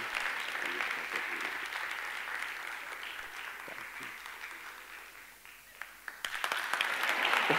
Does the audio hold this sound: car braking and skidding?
no